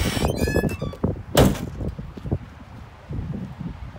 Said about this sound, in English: Checking out the trunk, this is the strong suit in these things. As you can see, it's a little creaky